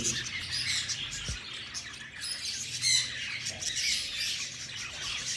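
Pet rosellas and ringneck parrots give harsh squawks and chirps, several overlapping at close range in a steady, busy chorus with no talk.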